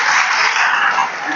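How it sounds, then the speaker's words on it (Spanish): Church congregation claps for the Lord during a Spanish-language sermon, a loud, close burst of dense hand-clapping that holds steady and tapers slightly at the end. "aplaude al Señor, si quieres aplaudir"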